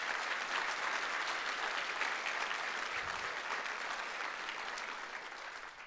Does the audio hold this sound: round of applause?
yes